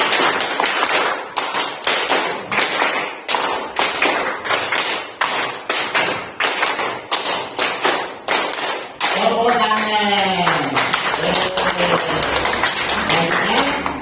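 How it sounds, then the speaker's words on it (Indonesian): A class of pupils claps in sharp, crisp sets of five, the rhythmic groups repeating close and loud for several seconds before a voice starts speaking over a quieter room. "Tepuk 5 kali."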